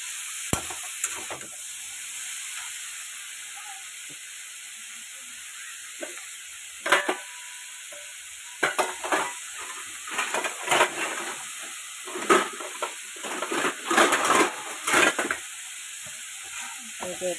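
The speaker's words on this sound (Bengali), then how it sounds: "একটু ঢাকা দিয়ে ভালো মতো আগে কষিয়ে নেবো।" Vegetarian curry sautéing in a covered pan, a soft continuous sizzle under scattered scraping and clattering bursts of stirring that grow busier toward the end.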